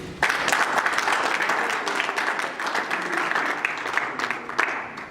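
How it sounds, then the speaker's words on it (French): Dense, loud audience applause at a French-language political gathering, with steady clapping that fills the whole stretch and a few sharper claps standing out near the end. "On applaudit pour lui."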